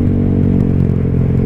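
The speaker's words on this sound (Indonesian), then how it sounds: "gua udah sebenarnya udah kurang betah nih sama suaranya knalpot bebasan gini" A motorcycle engine fitted with an open aftermarket exhaust idles loudly and close, a continuous low rumbling drone with a rough, crackling texture and no speech.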